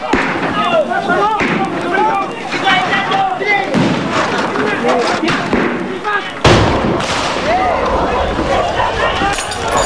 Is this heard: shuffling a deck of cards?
no